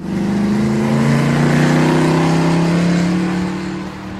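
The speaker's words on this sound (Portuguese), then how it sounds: "quando o carro vai em sua direção em alta velocidade" A car speeds toward someone on a street at high speed, its engine a loud, steady roar with a rising pitch as it closes in, then easing off slightly at the end.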